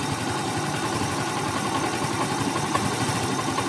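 A Yamaha BWS Zuma 125 scooter engine idles steadily while running lean, giving a continuous even drone with no voices.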